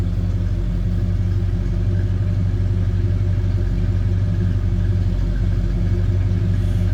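A 1964 Ford Fairlane 500 hardtop engine idles with a deep, throaty rumble, steady and close for several seconds with no one talking.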